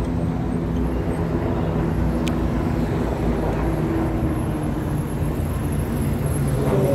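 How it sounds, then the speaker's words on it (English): A helicopter flies overhead at a distance, a steady engine drone hanging over the whole stretch with a constant rumbling roar and no voices. "Here comes a helicopter."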